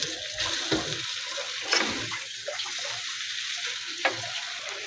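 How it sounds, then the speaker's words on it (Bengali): Noodles frying and being stirred in a pan during home breakfast cooking in a village kitchen, a soft steady sizzle with a few scraping stirs and clatters, fairly quiet and without talk. "ভাজা ভাজা হয়ে গেলে নুডলস দিয়ে দেব এখন নুডলসগুলো দিয়ে দিচ্ছি"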